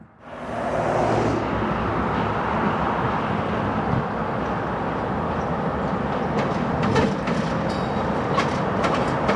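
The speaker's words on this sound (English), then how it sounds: "Then 11K comes back out of the yard for the second half of his train." Train cars rumbling and clattering steadily as a locomotive pulls back out of a rail yard for the second half of its train, a continuous close roar with faint clanks and squeals.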